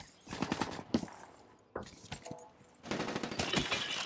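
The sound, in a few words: gunshot in the video game Call of Duty: Black Ops 3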